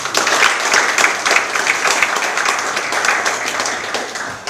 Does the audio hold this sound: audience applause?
yes